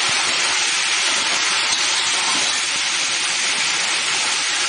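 Garlic frying in hot mustard oil for tamarind pickle, a steady close sizzling hiss without pause.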